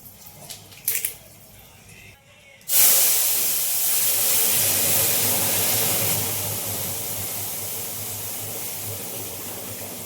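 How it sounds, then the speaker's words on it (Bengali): Loud steady sizzling and hissing of fish frying in hot oil begins abruptly after a few seconds of quieter clatter and continues without pause. "এখন এদিকে হচ্ছে মাছগুলো ভেজে নিচ্ছি"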